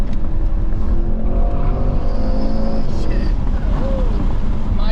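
Porsche Cayenne E-Hybrid with a twin-turbo V8 accelerating, a loud continuous engine roar heard from inside the cabin, with voices talking over it.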